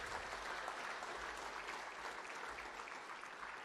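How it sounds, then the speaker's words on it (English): Steady applause from an audience at an IMCA racing banquet in a hotel ballroom, a dense wash of clapping heard at moderate distance and fairly faint, with no one speaking over it. "Yes, a round of applause, very much so."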